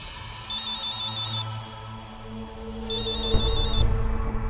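A phone ringtone warbles in two short high-pitched trilling bursts over a low background hum, with some faint clatter near the end.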